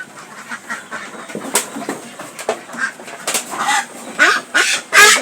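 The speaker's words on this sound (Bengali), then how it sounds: "বেজিং হাঁস, এই যে আপনারা দেখতে পাচ্ছেন বেজিং হাঁস" Peking ducks on a farm quacking loudly and repeatedly at close range, in irregular bursts that grow busier toward the end.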